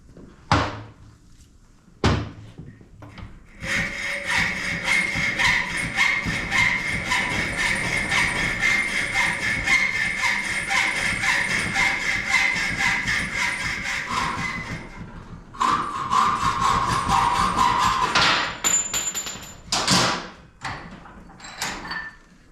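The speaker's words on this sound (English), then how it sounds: "I'm going to cut it off with a hacksaw a little bit long" A hacksaw saws through an old motorcycle spacer on a Sportster project, long steady rasping strokes up close that run on for many seconds, pause, then resume in a few shorter final strokes, with no speech.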